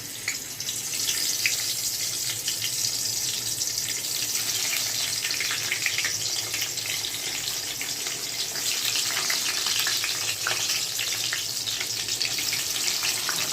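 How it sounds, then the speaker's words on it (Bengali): Pointed gourd coated with salt and turmeric frying in hot oil, a steady, dense sizzle and crackle that runs close and fairly loud throughout, with no talking. "আগের থেকে নুন হলুদ মাখানো পটলগুলো এবার তেলের মধ্যে দিয়ে দিচ্ছি।"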